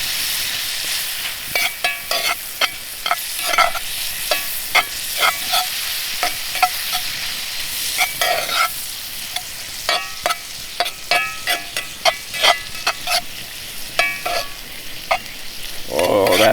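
Steak fajita filling sears and sizzles in a pan while a utensil scrapes and stirs it in repeated quick strokes, a steady frying hiss underneath, close and fairly loud with no talking.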